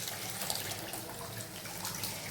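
Dissolved tamarind water pours into a fish curry in a continuous, gentle splashing trickle, faint and steady for a couple of seconds with no talking.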